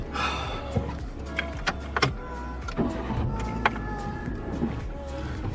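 A manual car pulls away in first gear with a low engine hum and uneven revving inside the cabin. Several sharp clicks and knocks break in along with occasional mechanical whines.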